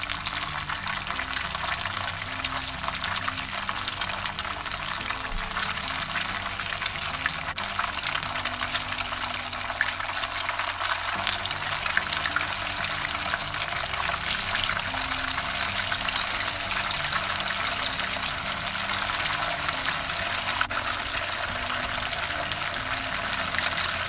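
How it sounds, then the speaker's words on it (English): Tofu deep frying in shallow oil in a pot gives a steady, even sizzle and crackle that holds unbroken and fairly loud from start to finish, with no talk over it. "I put some oil because we're gonna be deep frying, and we're gonna deep fry in shallow oil, and I'm gonna one by one place my tofu into the oil"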